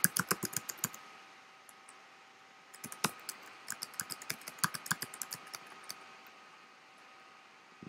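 Typing a password on a computer keyboard gives a close quick run of key clicks, a pause of about two seconds, then a second burst of rapid keystrokes that trails off into quiet.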